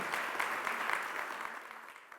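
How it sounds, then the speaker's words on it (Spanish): An audience gives steady applause in an event hall, a thick even roar of clapping that fades slightly toward the end, heard at moderate distance. "Quiero manifestarle un aplauso por el gran trabajo realizado."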